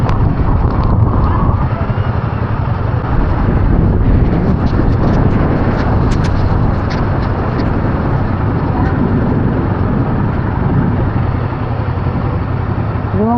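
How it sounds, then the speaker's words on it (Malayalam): Strong wind and rain lash a petrol pump shelter on a road trip between Hyderabad and Nagpur, a loud, steady roar of gusting air and downpour that fills the whole stretch without a break. "കാറ്റെന്ന് പറഞ്ഞാൽ ഒരു രക്ഷയില്ലാത്ത കാറ്റ് കേട്ടോ"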